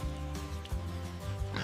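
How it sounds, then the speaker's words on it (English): A pig grunts and oinks in a steady, low, rough rumble close by, with a few louder snorting bursts over about two seconds on a farm. "It's a pig."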